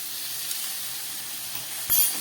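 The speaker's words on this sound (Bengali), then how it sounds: "এবারে দিয়ে দিচ্ছি 1 চামচ আদা বাটা।" Ginger paste dropped into a hot pan for a vegetarian banana flower ghonto gives a steady close hiss of sizzling, with a brief louder burst near the end.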